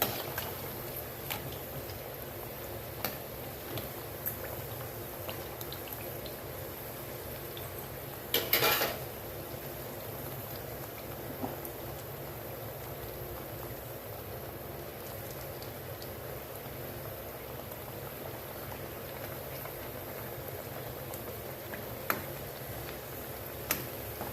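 Seedai rice-flour snacks frying in oil over a medium flame, a steady soft crackling sizzle throughout with a brief clatter of a utensil partway and a few small clicks.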